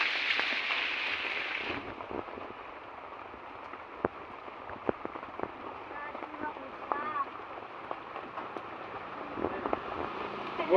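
Rain falls outdoors as a steady, soft hiss throughout, with a few scattered drips and knocks and people talking intermittently underneath.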